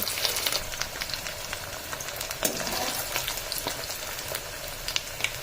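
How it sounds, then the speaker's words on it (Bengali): Long-cut potato slices fry in oil left over from frying bata fish, a dense, even crackle with a faint low rumble and scattered pops and spatters throughout, close and unbroken by speech. "এবার ওই তেলেতেই আমি আলুগুলোকে এখানে ভাজতে দিয়ে দেবো"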